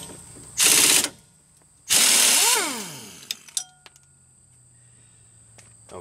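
An air impact gun loosening the front strut nut on a Chevy Cobalt: two loud, rattling hammering bursts, the second winding down with a falling whine, followed by a few small metallic clinks and a low hum.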